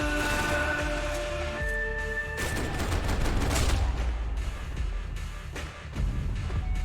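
Gunfire in the Max Payne 3 airport shootout, dense overlapping bursts and rapid shots that build into a continuous loud barrage, with game music and effects mixed underneath.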